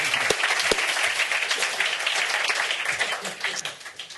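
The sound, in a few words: audience applause at music summit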